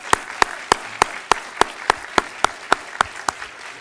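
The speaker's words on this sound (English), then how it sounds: "you deserve a big round of applause" Applause at a college honors convocation comes as a steady series of loud, sharp claps, about three per second, over a softer crowd wash.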